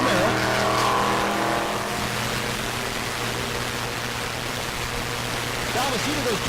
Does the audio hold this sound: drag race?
yes